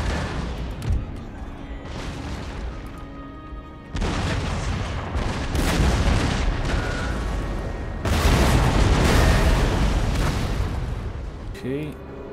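Cannon fire in Empire: Total War, heavy booming blasts and rumbling battle noise in long loud waves, with someone talking over the din.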